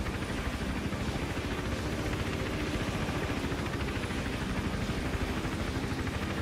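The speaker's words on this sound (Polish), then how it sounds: "jeszcze helikopter troszeczkę przeszkadza." A helicopter in the video game Hitman: Absolution drones steadily throughout, a continuous loud rotor chop with dense broadband engine noise and no speech.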